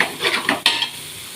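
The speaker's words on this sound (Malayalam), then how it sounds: "അതിനെ നന്നായിട്ട് ഇങ്ങനെ ഒന്ന് ഇളക്കി" Chicken with spices stirred in a pot for biryani, a short burst of sizzling with a spoon scraping and clinking against the metal, close and brief.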